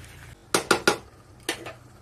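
A metal lid set onto a cooking pot of papaya chicken curry: four sharp, close metallic clanks, three in quick succession and one after a short pause, over a quiet kitchen background.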